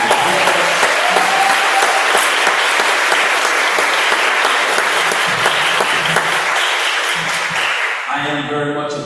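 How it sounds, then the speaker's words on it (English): Steady, dense applause from a conference audience honoring students and teachers, sustained clapping throughout with crowd noise and a voice briefly audible near the end. "Let's give them another round of applause."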